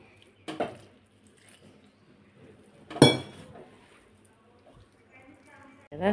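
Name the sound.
mixing snack dough with water in a bowl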